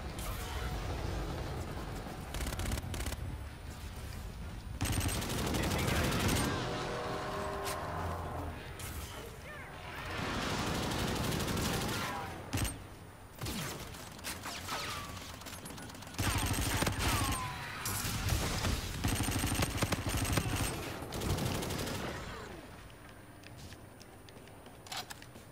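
Rapid gunfire bursts and volleys from a shooter video game crackle loudly and almost continuously, with brief pauses between barrages and occasional talk mixed in.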